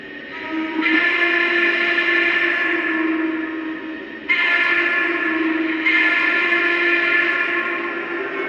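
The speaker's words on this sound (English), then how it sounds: "listen to this awesome, authentic Norfolk and Western hooter whistle" Three long, loud blasts of a Lionel Vision Line model train's deep Norfolk and Western hooter steam whistle, each sustained and breathy with a chord-like tone.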